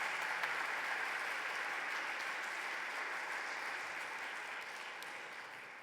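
Sustained audience applause at a forum session on a museum stage, a dense even wash of clapping that stays loud throughout and tapers slightly toward the end.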